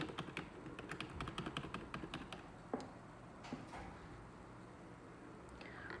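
Computer keyboard keys tapped rapidly in quick repeated bursts while entering a PC's BIOS, followed by a few sparser, isolated key presses and light clicks, close and fairly clear with no talking.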